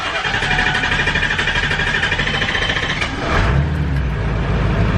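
A freshly overhauled truck engine cranks with a rapid, rhythmic starter churn, then catches around the midpoint and settles into a loud, rough idle close to the microphone.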